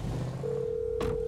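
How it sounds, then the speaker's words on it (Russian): A phone in GTA 5 gives a short electronic ring: a couple of steady tones, one changing pitch into the next, over a low background rumble, brief and moderately loud. "Лестер что-то звонит еще."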